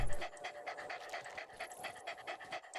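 A pet dog in the video game Satisfactory pants close up, a quick steady rhythm of breathy huffs running throughout with no talk.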